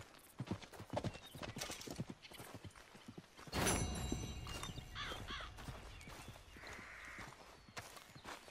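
Horse hooves clip-clop in Red Dead Redemption 2 at Beecher's Hope, a steady walking rhythm of close, crisp hoofbeats with a brief burst of heavier noise partway through.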